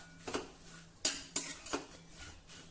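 Roasted sesame and peanut powder are stirred into ivy gourd in a pan, a spoon scraping and clinking against the metal in several quick, irregular strokes, close but fairly quiet.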